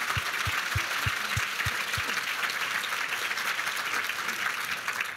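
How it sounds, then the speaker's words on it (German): Sustained audience applause at a Barbara Prammer symposium on democracy and feminism in Austria, dense and steady throughout, with a few low thumps early on. "Ein großer Applaus an dieser Stelle vor allem."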